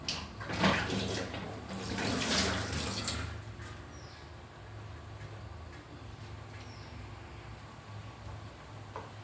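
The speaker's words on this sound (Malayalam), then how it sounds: "ഇപ്പോൾ നീരൊഴിക്കണം" Water pours and splashes into a pot of tuna curry with kudampuli for a few seconds, then settles into a quieter bubbling, gurgling background.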